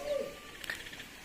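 A short, soft cooing call from a young pigeon, heard once at close range against a faint background hiss.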